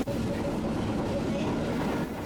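An M262 diesel railcar with nose-suspended traction motors runs on tracks through a valley near Prague, giving a steady, loud rolling and motor drone throughout with no clear talk over it.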